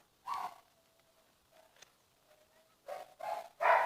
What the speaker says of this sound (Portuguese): Esse cachorro tá latindo demais.